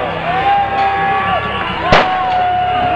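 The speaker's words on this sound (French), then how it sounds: "normalement c'est des pétards" A single sharp firecracker bang cracks out amid a street protest crowd of Gilets Jaunes in Dijon, over constant crowd noise and a thin whining tone.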